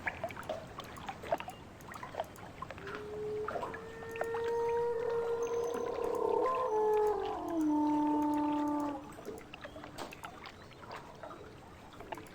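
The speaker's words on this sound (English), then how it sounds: "It's like a whale if a whale was a Siberian husky." From the video game Riven comes a mournful, whale-like howling call from a creature, several gliding tonal wails rising and falling over a few seconds against a background of water trickles and drips.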